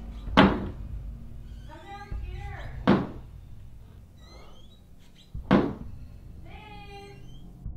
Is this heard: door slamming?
yes